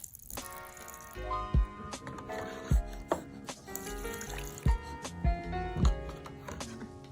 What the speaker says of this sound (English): Maybe I'll try to add some water on top.